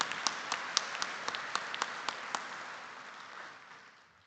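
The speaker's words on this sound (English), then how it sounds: "Let us applaud them all." Applause at a water investment summit, with a run of scattered claps that thins out and fades over a few seconds, recorded at moderate distance in a large hall.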